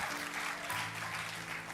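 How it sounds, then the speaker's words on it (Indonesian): A church congregation applauds during a sermon, a dense, steady roar of many hands clapping with a low hum underneath. "Kita kasih tepuk tangannya pula yang paling meriah buat Tuhan."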